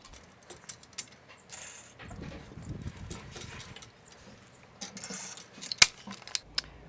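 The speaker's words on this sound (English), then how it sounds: "through the holes in the bottom of the Pelican box, I can take a screwdriver and kind of maneuver the T-nuts exactly where I want them" A screwdriver pushes T-nuts through holes in the bottom of a Pelican storage box, giving sparse, close metallic taps and small clinks with a brief scraping rumble in the middle and a sharp click near the end.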